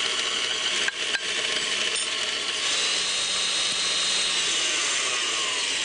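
An electric mixer drones steadily while beating butter and sugar into batter, close and fairly loud, with a couple of brief knocks early on and no talking.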